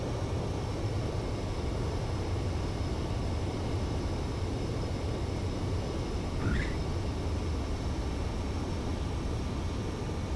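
Jet aircraft landing in an Ace Combat game, a steady, broad engine roar like rushing wind throughout, with one brief higher chirp partway through and no speech.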